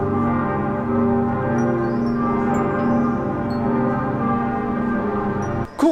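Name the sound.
church bells ringing in Munich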